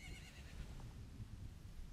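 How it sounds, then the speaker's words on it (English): A horse whinnies in a Zelda: Ocarina of Time cutscene, a quiet, faint neigh over low rumbling ambience with soft hoof-like thuds beneath. "You can hear horses."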